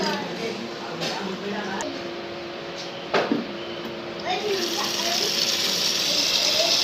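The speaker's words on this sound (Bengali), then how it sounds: "আর এখানে এটা পানি ভরতেছি।" Water pours into a small container holding molly fish, a continuous trickling gush with a faint mechanical hum beneath, a couple of brief knocks and a rising fill sound toward the end.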